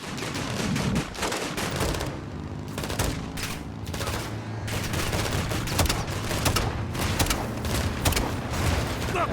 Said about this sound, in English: LMG on the right.